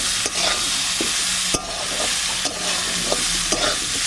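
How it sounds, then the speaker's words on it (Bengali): Potatoes with poppy seeds are stirred in a sizzling pan, the constant frying hiss broken by regular scraping strokes of a spatula. "একটু পোস্ত এখন দিয়ে আমি নাড়াচাড়া দিয়ে দেবো"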